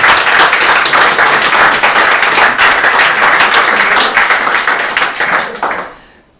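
A sold-out live talk-show audience in a lounge setting applauds loudly and steadily. The clapping is dense and sustained, then fades out over the final second.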